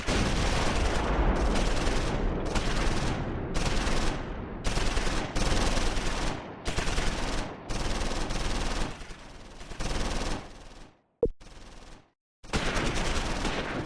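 Rapid machine gun bursts from the World War II game Close Combat 4, set in the Battle of the Bulge, fire in repeated loud close volleys separated by short pauses, with one sharp single report near the end.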